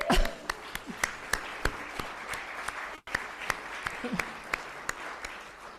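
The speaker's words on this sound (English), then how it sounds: "Yes, that deserves an applause." A crowd at a public gathering applauds steadily for several seconds, a dense wash of clapping with sharper individual claps standing out, fairly close, with no speech over it.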